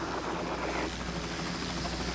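Steady rotor and turbine roar of a recovery helicopter lifting Apollo 11 astronauts from the sea to the carrier Hornet in 1969, a continuous moderately loud drone with no talk.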